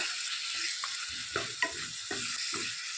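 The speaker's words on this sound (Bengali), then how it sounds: "আদা জিরে বাটা দিয়ে দিলাম 2 চামচ" Ginger and cumin paste frying and being stirred in a pan for a vegetarian chhana dalna, with a steady sizzling hiss and several soft scraping strokes of the spatula, close and even throughout.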